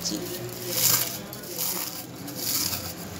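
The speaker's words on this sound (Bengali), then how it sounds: "সেগুলোকেও আমি হাত দিয়ে গুঁড়িয়ে নিচ্ছি।" Fried curry leaves are crushed by hand, giving close, crisp crackling and rustling bursts in uneven pulses.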